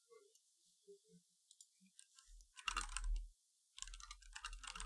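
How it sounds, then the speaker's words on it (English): Computer keyboard typing and clicking in bursts, with a sparse patter of keystrokes early on and then two dense, loud flurries of rapid clacks, close-up with no voice over them. "What the fuck is up with my keyboard?"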